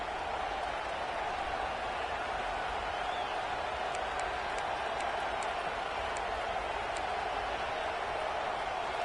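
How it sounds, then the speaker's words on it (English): Alabama Crimson Tide fans roar in a steady, wide wash of stadium crowd noise on third down, a sustained distant rumble with faint whistles and cheers rising above it. "The Tide crowd rolling noise down onto Saban Field on 3rd down"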